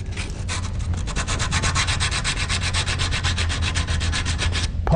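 Fine emery cloth polishing the metal of a British side-by-side shotgun, a steady close rubbing scrape with regular back-and-forth strokes running continuously for several seconds, no voices.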